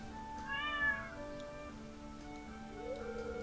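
A stray cat in the video game Stardew Valley meows once, a clear, nearby call over a steady backdrop of game music.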